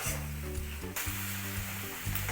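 A paste of onion, ginger and garlic with green chillies sautés in a hot pan, giving a steady close sizzle over a low humming tone, with no talking.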